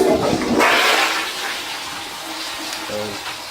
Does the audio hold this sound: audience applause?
no